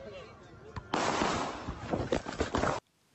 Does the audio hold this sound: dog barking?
no